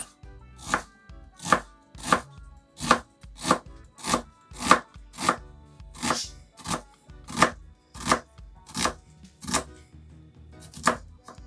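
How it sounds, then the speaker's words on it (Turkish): A knife finely chops a medium onion steadily on a board, about twenty crisp even strokes in a regular rhythm, close and clear with no talking. "sos kısmında kullanacağımız soğanımızı doğrayalım"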